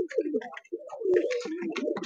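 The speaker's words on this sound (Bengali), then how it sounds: "এটা মাদি কবুতর" A female pigeon coos at close range, a few soft, throaty rolling calls in quick succession with brief gaps between them, clear and alone.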